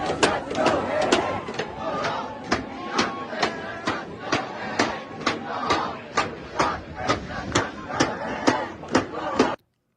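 A crowd of students at a walkout protest chants in a steady rhythmic cadence, loud repeated shouted phrases with sharp regular beats that stop abruptly at the end.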